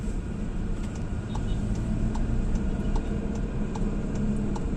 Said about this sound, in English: I am on the drive right now in the Tiguan Allspace.